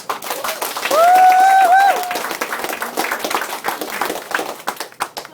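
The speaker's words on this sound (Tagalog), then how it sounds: "Palakpak!" Audience applause at a Filipino event, a burst of clapping with cheering voices and a high whoop early on, continuing as uneven, lively patter that thins toward the end.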